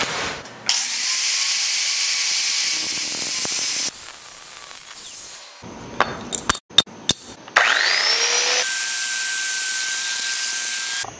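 Cutting aluminum flat bar to size with a power tool for a truck awning build, with loud sustained whining cuts that start and stop, clanks and handling knocks between passes, and a spin-down, without talk.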